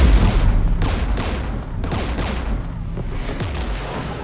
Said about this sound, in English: We're taking fire.